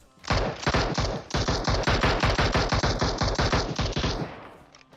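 Sustained automatic gunfire in the shooter game PUBG Mobile, a long rapid burst of loud close shots in fast rhythm with a brief pause near the start, tailing off at the end.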